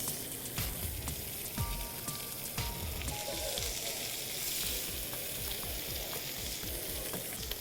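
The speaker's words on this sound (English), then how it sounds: "I guarantee you, you can cook an amazing steak in a cast iron pan. And then we're just gonna start cooking these steaks." Steaks searing in a cast iron pan make a dense, continuous hiss and crackle, steady and fairly close, with a few faint clinks and no talking.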